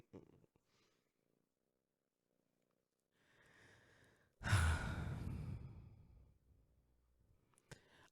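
A pet cat purrs close by in a quiet room. Faint rumbling gives way to one louder, breathy swell that fades out, followed by a soft click.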